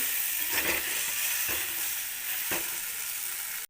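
Brinjal sautéing in hot oil gives a steady, loud sizzle that fills the whole stretch, while a few soft stirring scrapes break through at regular intervals before the sound cuts off abruptly.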